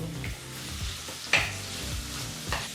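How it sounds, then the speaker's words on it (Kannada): Onions with curry leaves frying on a medium flame for an onion and okra gravy: a soft continuous sizzle broken by a few brief stirring scrapes, close and alone. "ಮೂರು ನಿಮಿಷಗಳ ಕಾಲ ಈರುಳ್ಳಿನ ಮೀಡಿಯಂ ಫ್ಲೇಮ್ನಲ್ಲೇ ಚೆನ್ನಾಗಿ ಫ್ರೈ ಮಾಡಬೇಕು"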